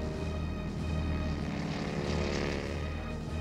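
A droning propeller aircraft from a group of 83 carrier planes launching at sea before dawn, its steady engine hum continuous and fairly loud with no talking over it.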